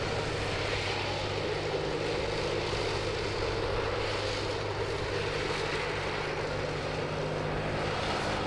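An airliner taxiing at Sydney Airport, turning onto a taxiway, gives a continuous low jet whine and rumble from a distance, steady and unbroken.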